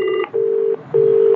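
Telephone keypad dialing tones: three steady dual-tone beeps, a short one then two longer ones separated by brief gaps, loud and clear with no voices.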